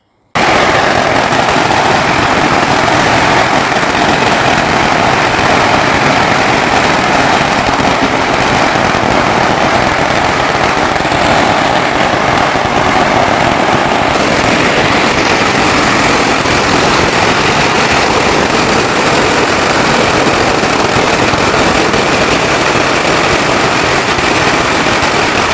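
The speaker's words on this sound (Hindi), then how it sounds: "तो अभी ये भी इन्होंने पटाखे फोड़ देने हैं।" A long, dense barrage of firecrackers at a Chinese New Year celebration, crackling and popping nonstop, loud and close, like a continuous string of small bursts.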